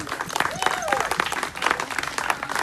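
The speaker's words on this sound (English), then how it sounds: "Give him a round of applause." A crowd at an outdoor summer community picnic breaks into applause, a dense patter of clapping with voices mixed in and talk running over it.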